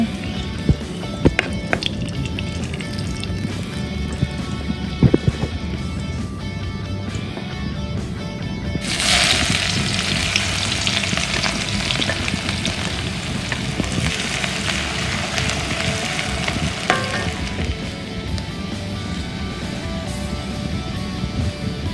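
Cumin seeds sizzling in hot oil for a mutton brain bheja fry, a loud continuous crackle that surges sharply midway as more goes into the pan, with occasional spoon scrapes and knocks.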